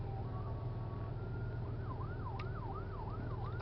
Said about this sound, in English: Ambulance, I can hear it.